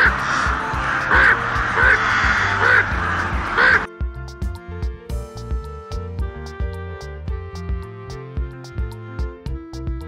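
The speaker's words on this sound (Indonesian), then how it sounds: "Ini adalah burung gagak." A crow caws loudly several times in a steady rhythm, close by, then gives way to plucked music.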